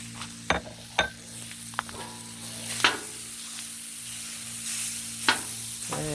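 Beef stir fry with cauliflower rice sizzles steadily on a hot griddle, broken by several sharp clinks and scrapes of a metal utensil, with a constant low hum underneath and no talking.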